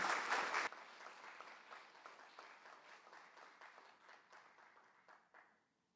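Warm applause from a graduation ceremony audience greeting the Minister of Education, loud at first, then settling into a steady, thinning patter of claps that fades away without talk.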